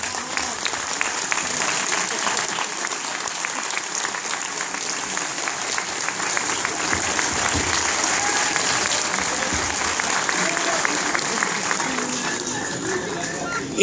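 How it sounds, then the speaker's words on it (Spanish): A crowd at a Star Wars fan convention in Argentina applauds a cosplayer, a steady dense clapping that holds loud for the full stretch with an announcer's voice faintly under it. "Fuerte el aplauso para el Yagua también."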